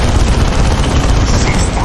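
Loud sustained gunfire aimed at a demon in a Warhammer 40K setting, a dense unbroken roar of rapid shots and booms filling the whole stretch with no pauses.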